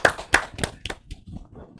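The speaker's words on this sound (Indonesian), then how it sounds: "Wah, tepuk tangan." Scattered hand claps from a small audience at a talk on anti-drug work in Bangka Belitung: a handful of sharp, uneven claps close by that fade out into a quiet tail.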